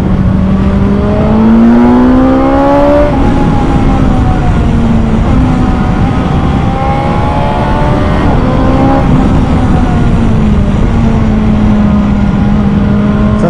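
BMW S 1000 XR 2021 motorcycle engine revving hard and accelerating through the gears, a loud continuous rising and falling engine howl with pitch climbing, dropping at each shift, then climbing again.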